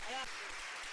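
Brief burst of audience applause at a university design school talk, quiet and distant, with a voice briefly heard at the start.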